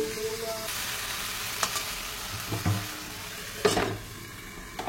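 Okra and shrimp sizzle softly in a pan as they are stirred, with a steady frying hiss broken by a few light scraping knocks of a utensil against the pan.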